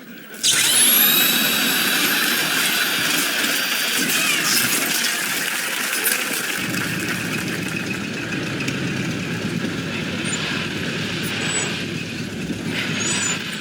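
A belt sander mounted facing backward runs with a loud, steady whirring roar after a sharp start, continuing with small rattles and knocks throughout, close and without talk.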